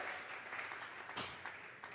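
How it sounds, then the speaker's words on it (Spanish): A church congregation at a Sunday service gives a round of applause as an offering, a dense wash of many hands clapping at a moderate distance with no voices on top. "Vamos a regalarle ofrenda de palmas al Dios de la gloria."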